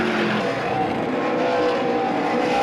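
ARCA race cars racing on the track at IRP, a steady loud roar of engines running close together for the whole stretch, with no talking.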